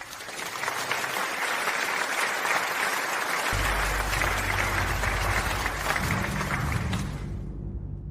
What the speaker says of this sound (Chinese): 让我们再次用掌声有请参赛选手落座。